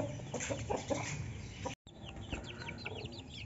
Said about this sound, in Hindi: ये रहे चिक्स मेरे